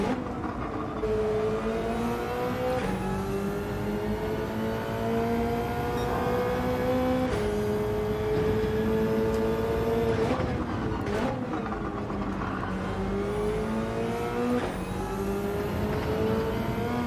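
A race car engine in Gran Turismo 7 revs high through repeated gear changes, each pull rising in pitch before dropping, loud and continuous on a mountain trail course.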